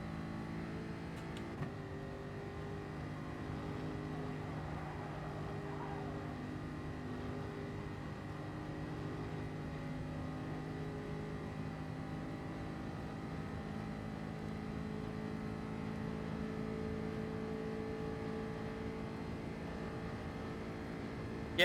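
A car engine in the racing game Gran Turismo Sport held at steady high revs, a continuous droning whine with layered harmonics that sustains without pause, loud and alone.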